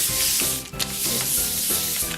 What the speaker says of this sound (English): I take an old wrapper from butter, and I use that to prepare my surface